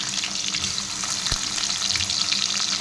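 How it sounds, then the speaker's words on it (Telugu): Sliced onions and green chillies frying in hot oil in a pan, a steady close-up sizzle and crackle with a single knock partway through. "ఇంకా ఇప్పుడు దీంట్లో ఆనియన్స్ వేసుకున్నాం. ఆయిల్ మంచిగా వేడైంది."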